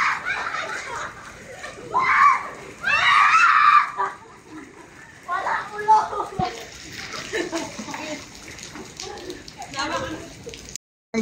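Children shout and scream while swimming, with splashing water and laughter; bursts of loud, high shouting rise and fall over several seconds, with adult talk mixed in.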